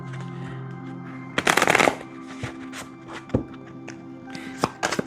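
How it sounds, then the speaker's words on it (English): Tarot cards are shuffled close up, with one brisk, loud riffling burst followed by scattered lighter taps and slides of cards being handled and laid out, with no talking. "I shuffle the cards up and lay them out"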